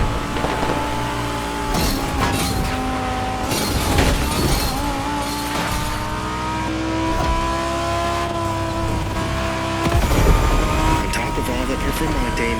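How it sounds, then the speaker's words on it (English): A Lamborghini Huracan Performante with a Liberty Walk body kit roars continuously in The Crew Motorfest, its engine droning and shifting pitch as it accelerates, loud and sustained, with occasional tire and impact noises and a voice talking over it. "So you're driving a Lamborghini Huracan Performante with a special Liberty Walk performance flavor"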